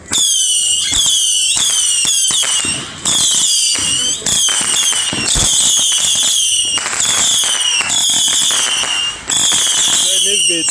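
A 300-shot fireworks cake goes off in a neighborhood on the Fourth of July. Loud, close volleys of whistling shots and sharp cracking bursts repeat almost without break, and the whistles rise and fall.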